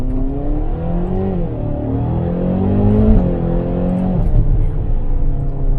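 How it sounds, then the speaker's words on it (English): A 2013 Ferrari California's V8 engine revs and holds a loud, rising and falling growl, steady and close throughout with no talking. "That V8 engine just sounds so good."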